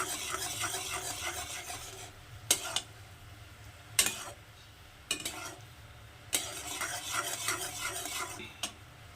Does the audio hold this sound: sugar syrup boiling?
yes